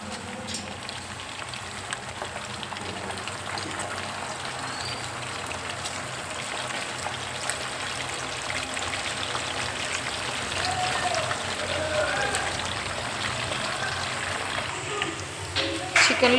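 Chicken pieces coated with turmeric and salt fry in a pan with a constant dense crackling hiss like rain, growing slightly louder toward the end as a voice talks over it.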